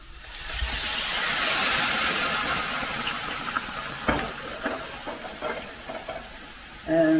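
Vermouth cooks off in a pan of sweated-down vegetables, giving a steady close sizzle and hiss with stirring scrapes and small clinks.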